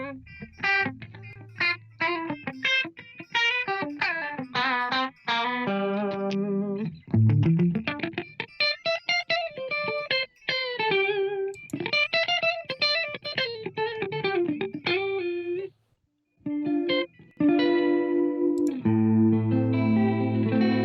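Electric guitar through a Corona chorus pedal at full depth, playing chords and melodic lines with a lush, wavering shimmer that stays loud and continuous, with only a brief pause near the end.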